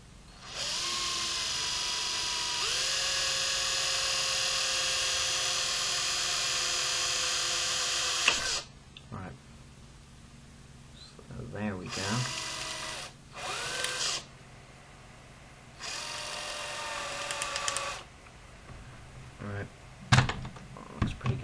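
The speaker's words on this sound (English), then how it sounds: "Alright, so I'll quickly drill through this." Power drill boring through the plastic shell of a Nerf Secret Strike blaster, a loud steady whine for about eight seconds, then shorter bursts of drilling separated by handling knocks and quiet gaps.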